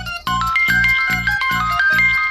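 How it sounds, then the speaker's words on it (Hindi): A mobile phone rings in a Hindi TV drama, a loud, bright chiming ringtone melody repeating in quick regular pulses, heard alone. "ये बार बार माँ का फोन आ रहा है"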